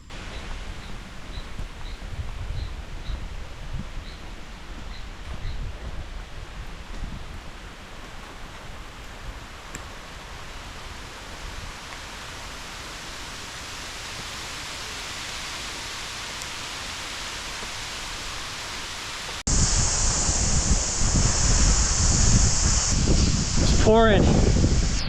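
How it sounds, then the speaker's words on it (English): Steady broadband hiss of heavy rain falling on a mountain trail to Jianshan in Taiwan, continuous and even throughout, growing louder and closer in the final seconds with a brief tonal sweep near the end. "Pouring rain now"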